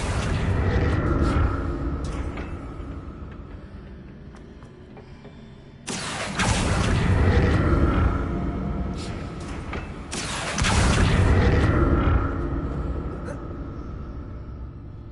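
Confringo fire spell explosions in the Hogwarts Legacy video game, two loud booming blasts a few seconds apart, each followed by a long rolling rumble that slowly fades.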